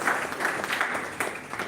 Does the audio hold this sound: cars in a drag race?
no